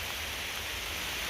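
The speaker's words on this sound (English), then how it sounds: "So this time, at least all morning we have rain," Steady rain falls in a forest along the Superior Hiking Trail, a dense, continuous hiss with no pauses that fills the whole moment loudly and evenly, with no voices.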